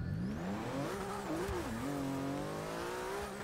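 A Porsche 911 GT2-RS accelerates hard on a quarter-mile drag run in Forza 6, its engine note climbing steadily through the gears with brief dips at shifts, loud and continuous.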